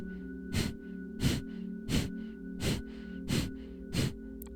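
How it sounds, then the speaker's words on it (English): Six forceful nasal exhales spaced evenly about every 0.7 seconds, one with each turn of the head during neck rotation breathing exercises, heard close over a steady low background hum. "we're only exhaling"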